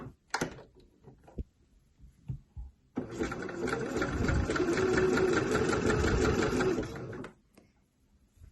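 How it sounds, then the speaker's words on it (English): A sewing machine runs in one steady close burst of about four seconds while stitching down elastic on a jersey knit neckline, with light handling clicks before and after. "I'm just going to stitch down that elastic to hold it in place."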